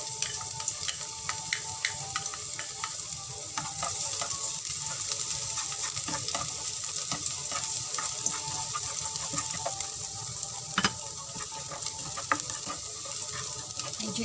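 Garlic sizzles in about a tablespoon and a half of oil in a pan. The hiss is steady and close, broken by small crackles and a few utensil taps.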